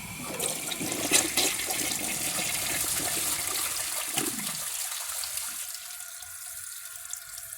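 A 1974 American Standard Cadet toilet flushes with a loaded washcloth in the bowl, a close rushing swirl of water that drains away after about four seconds into a quieter refill trickle.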